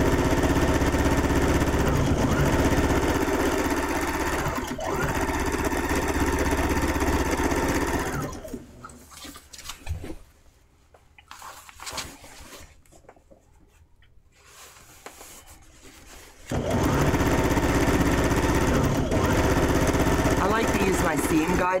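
A sewing machine stitching a bargello quilt, its steady motor hum and needle chatter running loud, dropping to a near stop in the middle, then starting up again at full speed.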